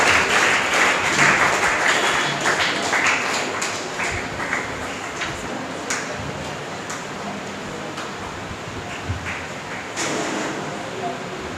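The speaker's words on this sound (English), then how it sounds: "Anusha, clap for him for giving wonderful speech." Audience applause at a confidence-building program run by an English academy, a dense wash of clapping that starts strong and gradually thins and softens, with a few isolated claps and faint voices scattered through.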